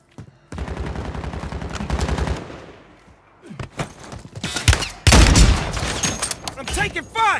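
Warzone 3 gunfire crackles in rapid automatic bursts at close range, mixed with game sounds and a voice talking over the shooting, ending in a heavy, loud volley.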